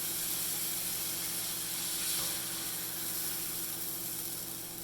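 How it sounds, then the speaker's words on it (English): Creamy pesto sauce with chunks of garlic and basil simmers in a pan over lowered heat, giving a steady, even hiss and soft sizzle that holds at a constant level throughout with no talking. "we are just going to put our sauce in and let it simmer"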